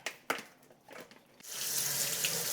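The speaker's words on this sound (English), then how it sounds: "The next one I'm going to do is rinse the beans." Beans being rinsed under a running kitchen tap: a few faint clicks and handling knocks, then a steady, close rush of water splashing into the sink that continues to the end.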